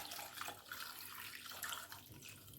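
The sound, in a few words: water poured into pot for boiling cassava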